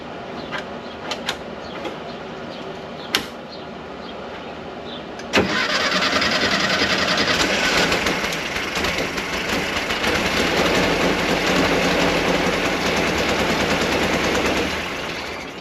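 A few faint clicks and taps, then the air-cooled engine of a 1968 Volkswagen Westfalia bus catches with a sudden burst and runs loud and steady, rattling close by until it eases slightly.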